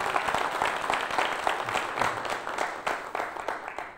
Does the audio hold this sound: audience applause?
yes